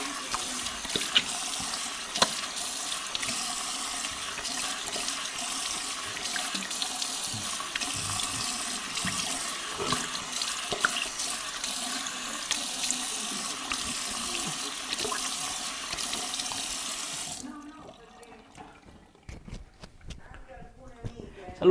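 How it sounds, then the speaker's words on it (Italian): A tap runs continuously at close range, with cold water splashing as a face is rinsed after a shave, before it stops abruptly near the end. "andiamo allora a sciacquare con acqua fredda abbondante"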